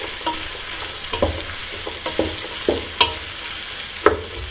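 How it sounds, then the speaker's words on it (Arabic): Turkey meat frying in a pot for a Tunisian red bean stew, a steady close sizzle with intermittent stirring clatters and scrapes at irregular intervals, no talking. "اللحم نتاعنا يتقلى"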